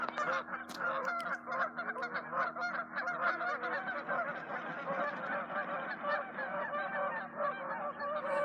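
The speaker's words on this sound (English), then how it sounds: "We got some noisy geese over here." A flock of geese honks noisily and continuously outdoors in a California forest, the calls overlapping in a dense, steady chorus with no talking.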